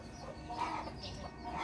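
A Tan Chau bantam rooster gives a short, fairly loud crowing call in the morning, sounding nearby and alone with no voices over it.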